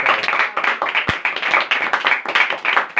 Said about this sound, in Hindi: अम्मी के लिए जोरदार ताली।